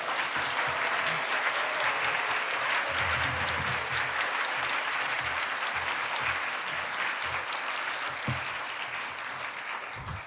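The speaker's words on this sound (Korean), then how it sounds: "우리 사랑의 박수로 우리 맞이하도록 하겠습니다" A church congregation applauds to welcome a pastor during a Sunday worship service, with full, sustained clapping from the whole room that keeps going for about ten seconds and fades slightly toward the end.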